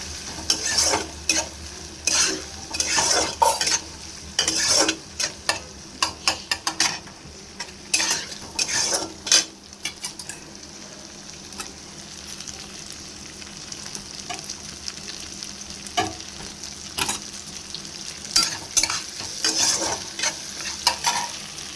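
Gobindobhog atap rice frying and being stirred in a pan for a Bengali mocha ghonto: a loud, close sizzle with repeated scraping strokes in bursts, easing to a steadier frying hiss midway before more stirring.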